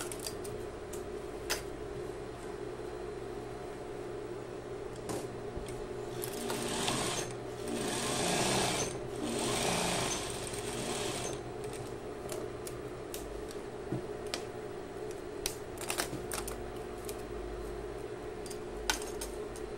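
A sewing machine stitches a hem on denim jeans, a steady mechanical whir running the whole time and swelling louder in the middle, with a few faint clicks and no talking.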